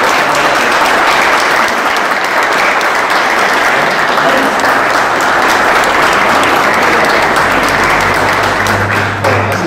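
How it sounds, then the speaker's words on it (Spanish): Sustained applause from an audience at a municipal exhibition event, steady dense clapping filling the space throughout, with a low murmur of voices underneath. "yo les pido un aplauso para ellos"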